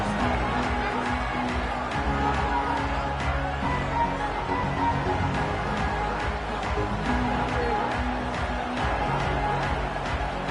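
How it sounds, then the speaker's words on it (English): A packed stadium crowd at a Kentucky Wildcats football game roars in a sustained, dense wall of cheering and chatter with scattered sharper shouts throughout. "This crowd bringing an ear-splitting welcome to their visitors."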